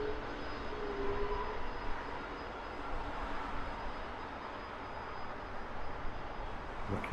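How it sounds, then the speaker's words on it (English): An Air Canada Airbus A330 arriving at Heathrow Airport overnight, heard as a steady, continuous jet engine roar at moderate distance, with no voices. "Always nice to see the Air Canada A330 in here at Heathrow."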